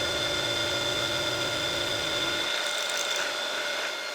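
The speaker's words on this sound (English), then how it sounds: "I'll do it on the milling machine just to move things along" Milling machine cutting a slot in metal: a steady high-pitched whine with a grinding cutter undertone, constant and fairly quiet, the low rumble dropping away near the end, and nobody speaking.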